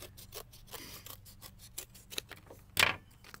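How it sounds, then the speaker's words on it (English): Scissors cutting a piece of cardboard, heard as a faint, steady series of snipping crunches close by, ending with a louder rasping cut, no talking. "You're going to cut the piece of cardboard so it will fit"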